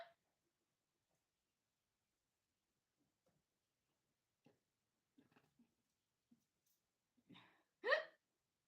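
A person hiccups in a quiet room: a few faint, scattered catches of breath, then one sharp, louder hiccup near the end.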